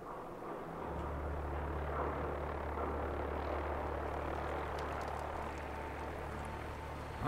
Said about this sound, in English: It sounds like the helicopter's landing.